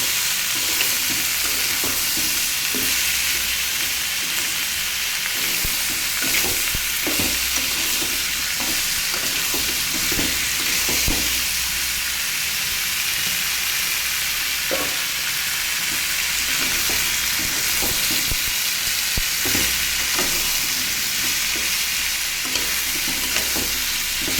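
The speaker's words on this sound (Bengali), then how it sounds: "নেড়ে চেড়ে ভালোভাবে মিশিয়ে নিতে হবে" Sweet pumpkin frying with salt and turmeric in a pan, a continuous close sizzle under repeated scraping stirs of a spatula, steady and loud throughout with no talk.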